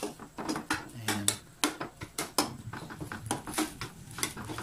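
Chunky homemade tomato pizza sauce stirred in a pan, with repeated clinks and scrapes of a utensil against metal in an uneven rhythm and a soft bubbling, clattering texture between strokes.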